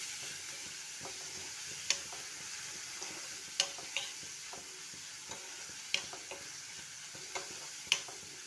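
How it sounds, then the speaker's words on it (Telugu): Onions with a little salt frying in a pan for a ridge gourd and chana dal curry, a steady soft sizzle broken by sharp spoon scrapes and taps against the pan every second or two, close and moderately quiet. "వేసుకొని ఫ్రై చేస్తాము"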